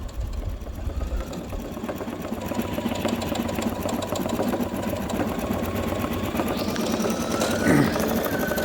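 A Brother NQ1700E embroidery machine stitches a butterfly design with a rapid, continuous mechanical chatter, close and steady, with a brief rising whine near the end.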